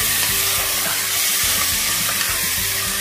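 Beef browning in a pan on high heat hisses in a loud, dense, continuous sizzle, with stirring scrapes running through it.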